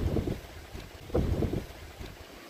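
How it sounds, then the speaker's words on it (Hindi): Strong wind gusts buffet the microphone at night in a hillside village, with trees shaking and a tin roof rattling, a steady low roar that swells and eases with no voices. "शायद हवा की आवाज आपको सुनाई दे रही होगी"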